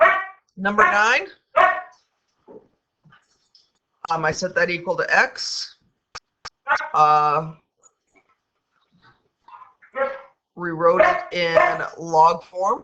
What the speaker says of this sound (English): All right, and if you hear barking,